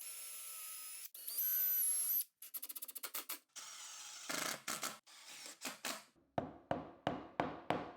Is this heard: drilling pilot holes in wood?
yes